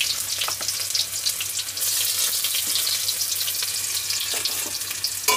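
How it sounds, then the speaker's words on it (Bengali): Chopped onion and garlic frying in hot oil for a village-style lentil and bottle gourd greens dish, a close, bright crackling sizzle that runs steadily with a few sharper pops. "তো পেঁয়াজ রসুনটা আমি সুন্দর করে এবার ভেজে নেব।"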